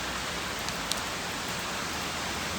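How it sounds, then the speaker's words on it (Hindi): Heavy monsoon rain pours down in the hills around Dehradun, making a dense, steady hiss that fills the whole stretch without a break. No voices are heard over it. "यहाँ पर झमाझम बारिश हो रही है"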